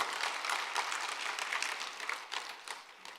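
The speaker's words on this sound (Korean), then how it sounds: "우리 하나님께 큰 박수 한번 영광을 돌려볼까요?" A church congregation breaks into brief, dense applause, a steady wash of many hands clapping at moderate distance.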